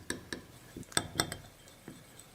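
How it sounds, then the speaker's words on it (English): Ground cloves being stirred into olive oil, heard as a handful of sharp, close metallic clinks and taps of utensil on container at an uneven pace, with quiet gaps between them. "Once we've stirred the ground up cloves into the olive oil"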